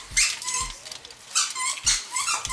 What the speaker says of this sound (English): He found one squeaky toy.